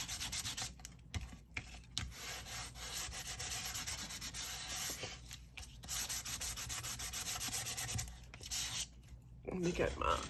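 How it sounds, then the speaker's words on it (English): A small hand sander roughs up bookboard close by, giving a rasping, scratchy grind in repeated strokes broken by short pauses, fairly quiet overall. "I like to take my little sander and just rough it up a little bit."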